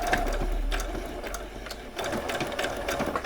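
A sewing machine stitching small doll jeans whirs steadily up close, with rapid needle clatter running through a short forward stitch and back stitch without pause.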